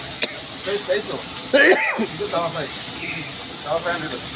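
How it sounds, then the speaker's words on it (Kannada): Fish fries on a tawa at an eatery, a constant close hiss of sizzling oil running throughout beneath people talking. "ಇದು ತವಾ ಫ್ರೈ ತಾನೇ?"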